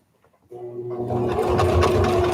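A sewing machine runs steadily while sewing a tie-back fabric face mask, with a loud, even mechanical whir that kicks in abruptly after a brief quiet moment.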